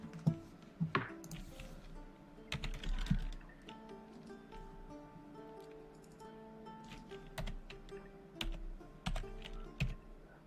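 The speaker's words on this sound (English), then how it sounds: "I hear typing" Rapid clacking on a computer keyboard runs throughout, close and fairly steady with bursts of louder keystrokes and a low hum of room tone underneath.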